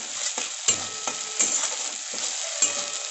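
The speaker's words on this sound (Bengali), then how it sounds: "আবারও খুব ভালোভাবে মিক্সড করে নেব।" A spoon stirring food in a frying pan after salt and turmeric go in, with repeated scraping strokes over a steady sizzle, close and alone without talk.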